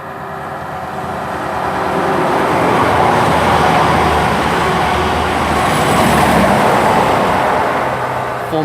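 Passenger train 220024, bound from Bristol Temple Meads to Manchester Piccadilly, passes through Selly Oak station as a loud, steady roar that swells and holds close by for several seconds with no voices.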